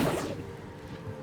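An Accio summoning spell cast in Hogwarts Legacy: a quick swish that rushes in and fades to a lower hum with a small pop near the end.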